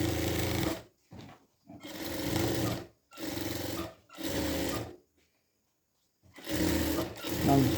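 A sewing machine stitches a blouse in fast, steady whirring bursts, about five runs separated by short pauses and one longer stop, close and loud with no voice over it.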